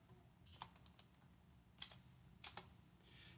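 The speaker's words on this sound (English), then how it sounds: "if I were to type in D Adam" Typing on a computer keyboard, a handful of faint, sparse key clicks spread over a few seconds against a quiet background.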